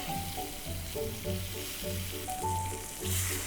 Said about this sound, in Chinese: 起个油锅，把蒜头和姜片下锅炒